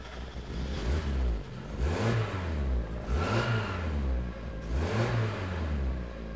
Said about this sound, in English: it actually starts and idles incredibly well from the base map.